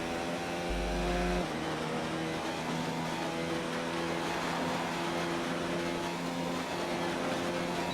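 Steady high-pitched engine whine from an F1 car held at full throttle in a racing video game at Bahrain, with a sustained harmonic tone that shifts slightly in pitch, close and continuous.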